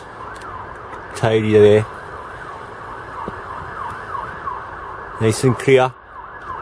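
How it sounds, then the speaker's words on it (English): An emergency vehicle siren wails continuously in the distance, rising and falling steadily, heard from an outdoor allotment while someone talks briefly twice over it. "Another siren."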